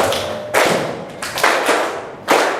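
A group of schoolchildren claps together in a few heavy, spaced unison claps, each a dull thudding burst with short gaps between, fairly close and without talking.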